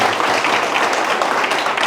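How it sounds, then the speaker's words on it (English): Brief applause from an evening event audience, a steady wash of clapping from many hands with no clear pauses. "Give yourselves a round of applause for being out here tonight."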